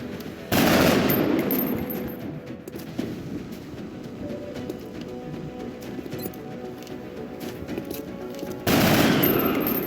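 Sustained automatic gunfire in the Long War Rebalance strategy game, dense rattling bursts loud at the start and end with a steady volley throughout.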